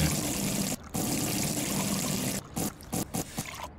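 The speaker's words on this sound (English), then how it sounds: "We shall fill it up with water" Water pours steadily into a brewing pot in Brewpub Simulator, a close, bright trickling stream that breaks off briefly, resumes, then stops and restarts in several short spurts at the end.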